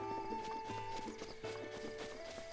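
Horse hooves in The Legend of Zelda: Breath of the Wild clip-clop at a walking pace over a steady background hum of tonal music, the steps soft and rhythmic with no one speaking.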